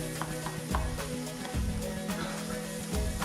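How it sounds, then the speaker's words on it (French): Rice is stirred continuously in a pan with sweated vegetables for a chorizo basquaise, a close scraping and shuffling of grains with a light sizzle underneath and a steady low hum, no talk. "on va venir rajouter notre riz pour le nacrer. C'est-à-dire qu'on va remuer sans discontinuer jusqu'à ce que notre riz devienne translucide."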